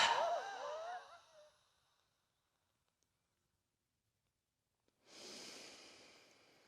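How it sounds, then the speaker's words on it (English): Forced exhale pushed out through an open mouth and throat, a loud breathy rush that fades over a second or so, then silence before a fresh hissing breath starts near the end. "I'm going to force the exhale through an open mouth and throat."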